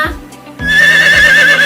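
A horse whinnies loudly and close, a shaky high-pitched neigh that starts after a brief snort and holds to the end.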